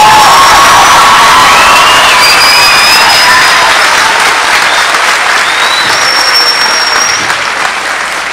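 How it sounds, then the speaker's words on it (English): A large crowd at a class of 2022 graduation breaks into loud, sustained applause with cheering, whoops and children's shouts, a dense steady roar of clapping lasting throughout. "One more round of applause for the class of"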